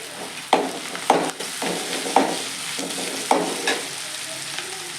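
Fennel powder fries in a pan for dal-free sambar, a steady sizzle broken by several rhythmic scraping stirs of a spoon against the metal.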